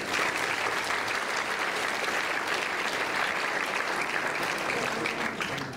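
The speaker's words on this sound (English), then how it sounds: "let's give Elio a big round of applause." Steady, dense audience applause welcomes a Salesian priest who is about to speak at a theology talk, filling the whole stretch at an even, loud level without letting up.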